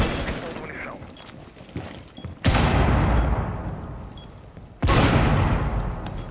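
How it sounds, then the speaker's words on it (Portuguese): Two loud grenade blasts in Rainbow Six Siege, each a sudden sharp boom with a long decaying rumble, a few seconds apart, after faint gunfire and movement sounds. "Caralho, eu tomei dano da minha própria granada,"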